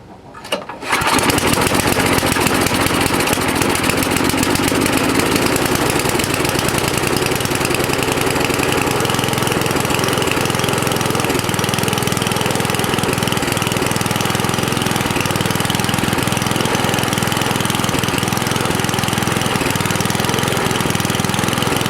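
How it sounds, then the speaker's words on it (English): An old Craftsman 5.5 hp lawnmower or MTD snowblower engine, run on old gas, catches after a brief start and then runs loud and steady close by, with a rough, knocking idle throughout and no talking. "Well, I suppose I could start it up anyway, right? Choke on, throttle up."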